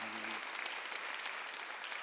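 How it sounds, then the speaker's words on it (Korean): A church congregation at a Sunday worship service claps together in steady, dense applause that fills the room, soft and somewhat distant, continuing for about two seconds with no break. "박수하세요."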